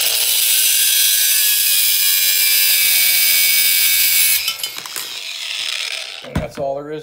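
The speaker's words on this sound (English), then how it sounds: "You can use, you know, any type of cutoff wheel. I'm using a little angle grinder." A small angle grinder with a cutoff wheel cuts through metal, a loud, harsh sustained whine for about four seconds. The wheel then spins down into clatter and handling noise, and a brief sound at the end may be a voice.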